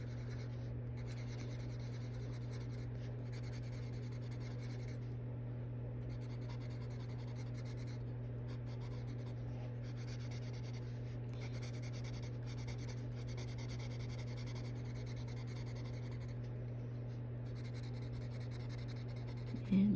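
A colored pencil rubs steadily on the paper of a coloring book, adding skin tone and hair: faint, continuous scratchy strokes over a constant low electrical hum.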